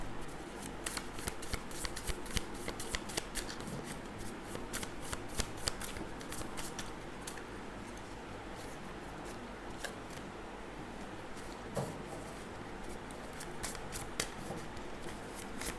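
Tarot cards being shuffled and drawn, a long run of crisp, rapid riffling and flicking close by, quiet overall, with no talking.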